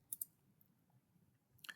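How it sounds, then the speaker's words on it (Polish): Mouse clicks on an on-screen button: two quick, faint clicks at the start and another short click near the end, over a quiet room hum with no talk. "Klikam przycisk Wybierz."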